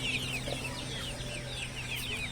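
Chickens and roosters cluck and chatter together at a poultry market in Akyazı, Sakarya, a dense overlapping flock chorus running steadily over a low background hum.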